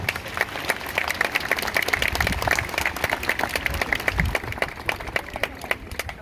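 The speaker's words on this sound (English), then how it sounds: "Let's give all our American Legion honorees another round of applause." An audience at an eighth grade promotion ceremony claps steadily, a dense, fairly close round of applause holding its level throughout.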